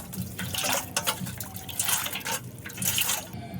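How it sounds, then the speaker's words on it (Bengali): Sugar water tinted with food colouring poured into an ice cream container for homemade ice cream, a close, continuous splashing trickle that swells and eases in short waves. "আমি আবার আইসক্রিমের কৌটোয় ঢেলে নেব।"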